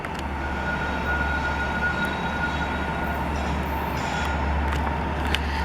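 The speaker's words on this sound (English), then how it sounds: "Hey, there's a train coming." A train draws near on the line, a low steady rumble with a strong bass drone and occasional faint metallic clicks above, holding close and level with no voices.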